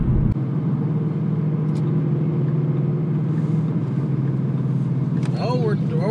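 A 750-horsepower Roush supercharged Ford Mustang GT drives along with a steady low engine drone and a supercharger hum underneath, followed by a brief rising chirp near the end, with people talking over it.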